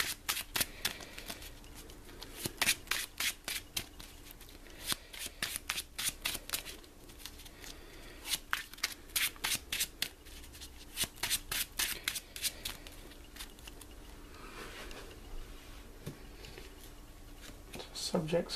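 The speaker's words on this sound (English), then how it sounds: "Shuffle the encounter deck." Repeated crisp riffle-shuffles of a deck of cards, quick bursts of flicking and snapping, with quiet pauses between and occasional soft speech.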